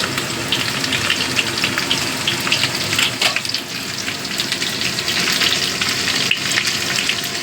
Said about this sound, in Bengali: এই পেঁয়াজ কুচিটা দিয়েও ভালো করে ভেজে নেব।